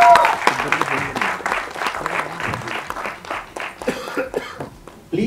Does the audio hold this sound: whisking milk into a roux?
no